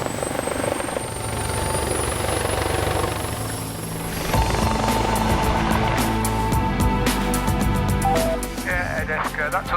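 A medical air ambulance helicopter's engines and rotor wind up for takeoff, a loud continuous whine and roar that grows steadier with a rhythmic rotor beat after a few seconds, filling the whole cabin.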